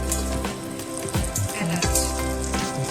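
Dried chillies, nutmeg, mace, cubeb pepper and cinnamon dropped into a hot pan for chicken biryani, a close, crackly sizzle with spattering pops and some clatter, continuous over a few seconds.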